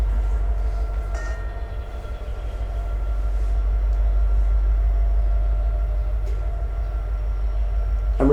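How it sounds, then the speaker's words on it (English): A train rumbles steadily close by, a deep continuous roar of rolling cars with faint squeaks and clanks, no voices. "I invite you to enjoy the sound of the bell"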